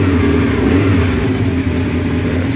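Honda Nighthawk motorcycle engine running after carburetor reassembly with tweaked idle screws, a loud, steady, close-up drone that holds throughout with no pauses.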